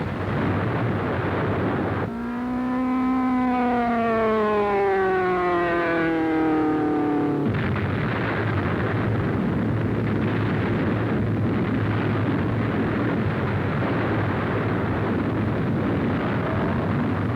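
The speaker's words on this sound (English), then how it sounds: "Planes of the American Army Air Force demonstrate the terrific destructive power of their latest bombs. 100-pounders in a concentrated salvo." Salvo of 100-pound aerial bombs dropped by American Army Air Force planes in 1944: a loud descending whistle falls for several seconds, then gives way to a sustained, roaring rumble of blasts, with no voices.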